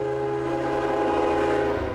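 Train rumbling past with a sustained horn blast, a loud, steady roar with layered tonal honking held throughout and no talking.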